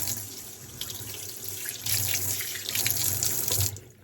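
Water sloshing and pouring out of a 1990 Tofaş Kartal car's radiator overflow reservoir as it is rinsed, a continuous close splashing stream that swells louder midway.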